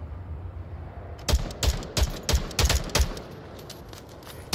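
Rapid bursts of gunfire from a shooter video game, several quick volleys close together in a steady rattling rhythm, loud and near over a low background hum.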